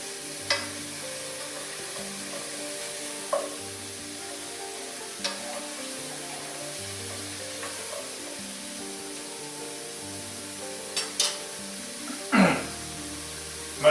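Mushrooms sizzle in a pan for meatball marsala, a soft steady frying hiss with occasional clicks and a brief louder scrape near the end.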